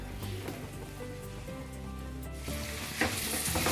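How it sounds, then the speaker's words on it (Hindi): Spices sizzle and crackle as they are fried in a pan for a paneer capsicum dish, a soft, steady hiss with light stirring noises and a faint background hum, no voices. "सब मसालों को अच्छे से हम भून लेंगे"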